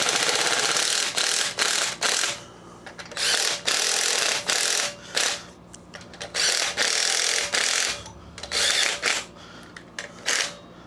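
A small hand driver backs screws out of a Briggs & Stratton engine. Repeated short bursts of close ratcheting clicks are separated by brief pauses, with no talk.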